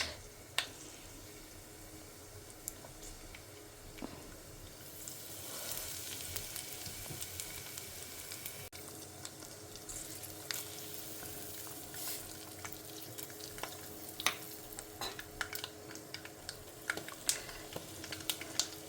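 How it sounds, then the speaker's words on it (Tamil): Mustard and fenugreek seeds sizzling in hot oil for tempering, a steady close crackle and hiss with scattered sharp pops throughout, no talk. "அதில் கடுகு, வெந்தயம் ஆஸ் யூஷுவல் தாளிக்கிற மாதிரி தான்"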